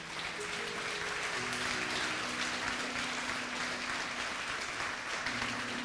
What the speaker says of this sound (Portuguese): Alguém pode dar um forte aplauso para ele?